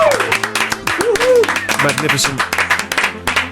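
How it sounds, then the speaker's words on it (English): Audience applause after a live song on a radio-style show, scattered claps running under a voice as he talks over them. "Round of applause, surely."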